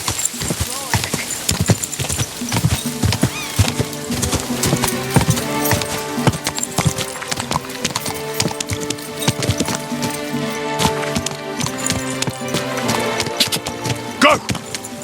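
Horse hooves clip-clop steadily at a gallop in the medieval video game Kingdom Come Deliverance II, with a whinny in places and faint metallic clinks, loud and continuous under a dense layer of other game sound.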